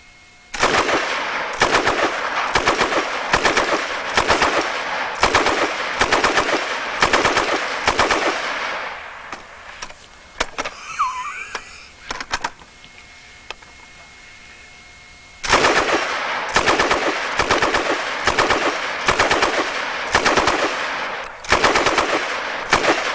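JD Jones SSK machine gun firing in rapid bursts of loud, close gunshots, one burst of several seconds and then a pause with faint outdoor noise before another long burst, with no voices.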